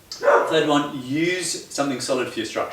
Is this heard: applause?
no